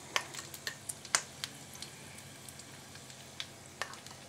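Beaten egg batter poured into rings sizzles gently in a pan over a low-to-medium gas flame, a soft steady frying hiss broken by scattered small pops and crackles, close and quiet with no talking.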